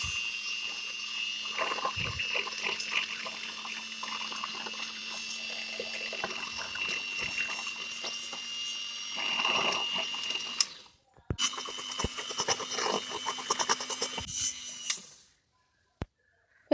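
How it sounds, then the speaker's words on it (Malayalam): An electric beater whirs steadily while mixing powdered sugar into cupcake batter, with a rattling motor drone that cuts out briefly, starts again, then stops. "ഇത് നന്നായിട്ട് ബീറ്റർ കൊണ്ട് മിക്സ് ചെയ്യാം."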